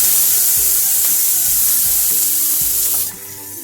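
Finely chopped onion sizzles as it hits hot oil in a pan for cabbage paratha filling, making a loud, close, continuous hiss with a few stirring knocks before it drops off at the end.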